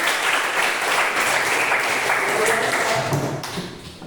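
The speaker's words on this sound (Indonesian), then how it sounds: "Tepuk tangan sekali lagi." A classroom of schoolchildren claps together in sustained, dense applause that stays steady and close, then begins to fade in the last second.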